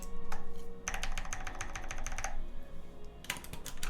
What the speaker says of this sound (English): I'm gonna test a couple of them to see what we're sounding like.